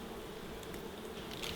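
Wild honey bees buzz steadily at a hive set in a kitchen cupboard, a continuous faint drone with no talk.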